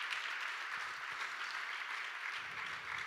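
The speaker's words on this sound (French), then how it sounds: "Avec vos applaudissements évidemment pour rythmer tout ça." Steady applause from an audience at a tennis and health colloquium in France, a dense even wash of clapping with no clear gaps, moderately quiet and continuing throughout.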